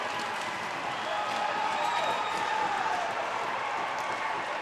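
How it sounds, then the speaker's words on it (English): Crowd at an ice hockey game, Newcastle Northstars versus Brisbane Lightning, giving a sustained roaring cheer in an arena, a broad steady wash of noise lasting throughout. "Gets a big cheer from the crowd and his team."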